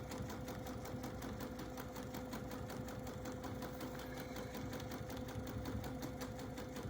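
A sewing machine quilts with a serpentine stitch along a seam, running in a fast, steady, rhythmic chatter of needle strokes that carries on without pause, close and moderately loud.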